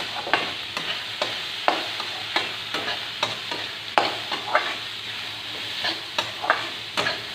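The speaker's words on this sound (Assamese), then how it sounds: "ভালদৰে লাৰি দিম।" A spoon stirs mung dal with a pinch of turmeric in a frying pan, sharp scraping strokes repeating at a steady rhythm over a low, continuous sizzle, close up and with no talking.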